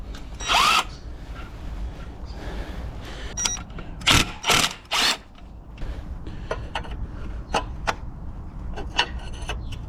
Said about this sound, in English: apparently you can just hit these clutch bolts with an impact wrench and they should just come off